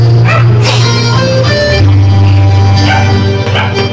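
A dog barks and yips along with a man singing a sentimental Filipino song over loud backing music, its voice woven into the continuous music rather than standing out alone.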